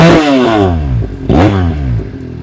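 A Ducati Panigale motorcycle engine revs up in two strong pulls, the pitch climbing and dropping each time, close and loud with no talking.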